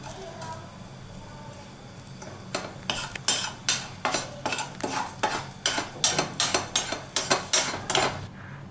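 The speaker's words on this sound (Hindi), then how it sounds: "So basically हम इसको जस्ट ड्राई रोस्ट करेंगे" Peanuts dry roasting in a pan are stirred in a steady rhythm, a dozen or so scraping, rattling strokes after a quieter start, close and fairly loud.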